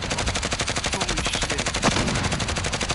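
Rapid automatic gunfire in Call of Duty Warzone, a dense unbroken stream of loud, evenly spaced shots lasting the whole stretch, close and alone without talk.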